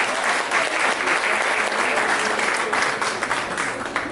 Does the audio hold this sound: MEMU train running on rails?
no